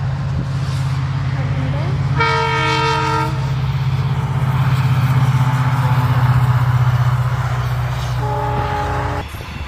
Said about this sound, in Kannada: ಅಲ್ಲಿ ಟ್ರೈನು ಬರ್ತಾ